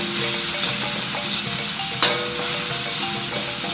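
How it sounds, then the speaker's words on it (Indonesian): Seasonings fry in hot cooking oil in a wok with a dense, steady sizzle and crackle throughout, plus a single sharper spatter or clink near the middle. "3 bahan pelengkap penyedapnya sudah kita masukkan ke dalam kuali yang sudah kita panaskan dengan minyak goreng."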